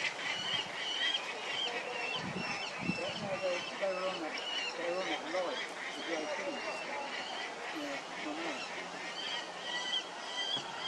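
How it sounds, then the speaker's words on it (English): Harsh, repeated peregrine falcon calls ring out again and again, overlapping one another above a steady breeze. "the air is filled with the sound of peregrine voices rising above the"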